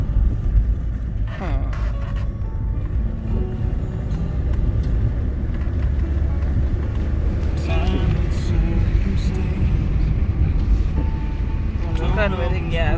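A car drives at night up a hill road through a dark forest near Castara, its engine rumbling and road noise steady throughout, with people talking over it.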